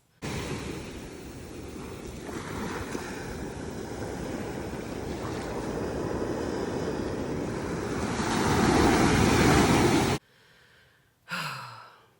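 Ocean waves wash onto a beach in a steady, loud rush of surf with a building swell near the end, then the sound cuts off and a brief separate noise follows.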